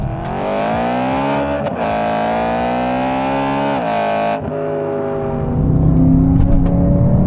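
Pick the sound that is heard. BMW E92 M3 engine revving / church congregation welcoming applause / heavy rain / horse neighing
BMW E92 M3 engine revving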